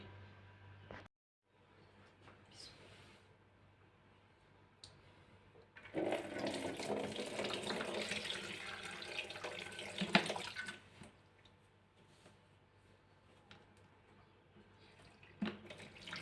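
Tap water runs while the brine on home-cured green and black olives is being changed. It starts as a soft trickle, gushes more strongly for about five seconds, then drops back to faint dripping and splashing, all close by.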